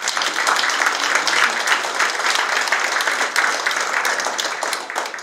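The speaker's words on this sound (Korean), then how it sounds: "힘내시라고 다시 한번 힘찬 박수 부탁드립니다" Sustained applause from a civic audience at a city mayor's annual district visit in Icheon, a dense steady clatter of many hands lasting throughout and easing slightly at the end, with no talk over it.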